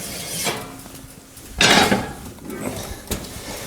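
A hot cast-iron Dutch oven holding rising artisan bread is lifted out of a home oven with oven mitts: scattered clanks and scrapes of metal, with one louder rattle in the middle and a short knock near the end.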